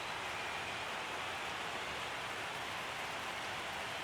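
Steady, even rain falling in the MLB The Show 25 baseball video game, a constant broadband hiss with no breaks, heard alone without voices.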